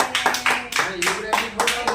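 A few people clap together at a small home birthday party, a short burst of uneven rhythmic claps close by with voices mixed in.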